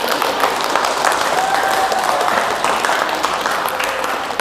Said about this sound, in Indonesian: Kok kamu sini tepuk tangan sih?